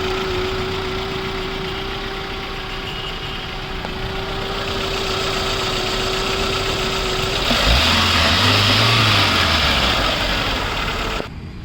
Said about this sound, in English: So right now you can just check the engine sound.